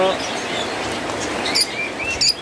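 Caged pet birds such as lovebirds and cockatiels chirp at a bird seller's stall, with a few short, high chirps standing out over a steady background hum.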